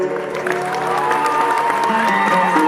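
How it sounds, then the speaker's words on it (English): An audience at a school event claps and cheers loudly and continuously as a children's performance group is introduced, with music-like tonal sound running underneath. "Let's give them a big round of applause."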